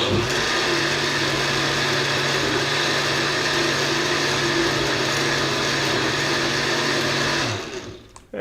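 Blender whirring steadily as it mixes avocado purée with added cream and milk, a loud, continuous close motor drone that runs for several seconds, then cuts off and spins down near the end.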